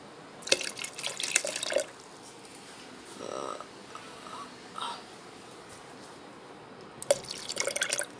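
Water poured into a mango milkshake made with powdered milk, a few short splashing and trickling bursts separated by gaps, close and moderately loud, with no voice over it.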